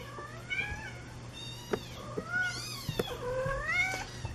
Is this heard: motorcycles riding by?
no